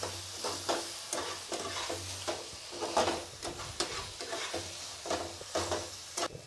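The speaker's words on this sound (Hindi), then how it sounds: "अब इसको मैं मसाले को फ्राई करूँगी।" Spices and tomato frying in a pan for a chickpea and potato curry: soft, steady sizzling with repeated stirring scrapes, fairly quiet and close, with no voices.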